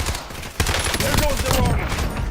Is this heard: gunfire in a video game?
yes